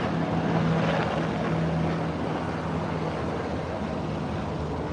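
A steady, broad mechanical roar of rotor and engine noise drones on, loud at first and easing slightly as it passes over.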